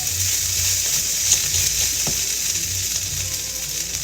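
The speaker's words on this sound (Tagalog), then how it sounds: "Nagluto ko ng fried rice para bago ako pumasok," Fried rice with eggs and hot dogs frying in a pan, a steady close sizzle throughout with faint stirring scrapes and no talking.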